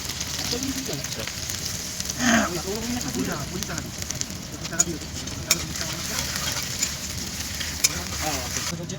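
Onions frying in a pan in a home kitchen, a steady broadband sizzle throughout with stirring scrapes, faint voices murmuring in the background and a few sharp clicks.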